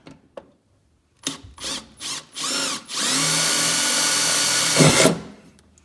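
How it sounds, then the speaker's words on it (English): A small power drill with a small bit drills pilot holes for mounting a coolant tank on a 1968 Ford Mustang, revving in short bursts, then running steadily about two seconds, close and loud, before winding down. "get a small drill bit and you're gonna put your pilot holes in there"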